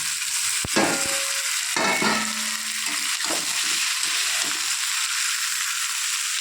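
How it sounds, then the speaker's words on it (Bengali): Pumpkin and potato chunks hit hot spiced oil with ginger paste for kumro chhakka, giving a loud continuous sizzle and frying hiss, with a few clinks and stirring scrapes near the start and no talking. "এখন আমি এই কুমড়ো আর আলুটা ঢেলে দেবো"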